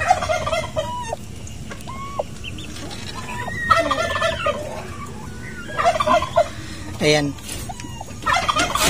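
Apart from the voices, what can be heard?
turkey gobbling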